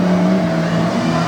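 A stock Jeep Grand Cherokee races an off-road tough truck course in Bloomsburg, Pennsylvania, its engine producing a loud, sustained droning roar throughout the short burst.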